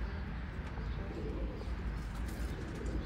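Oman Teddy pigeons coo in soft, low, repeated murmurs close by, with a constant muffled background.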